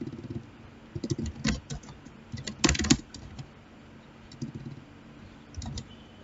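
Quiet typing on a computer keyboard while entering text in a Linux editor, scattered clusters of soft key taps with pauses between, close and faint.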